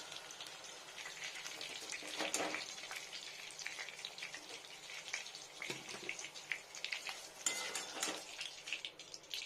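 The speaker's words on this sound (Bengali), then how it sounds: "সুন্দর করে এরকমই ভাজতে হবে আর ড্রাই করার দরকার নেই" Pointed gourd (potol) fries in a pan with a soft continuous sizzle, punctuated by close scraping and clinking of a utensil stirring against the metal, fairly quiet overall.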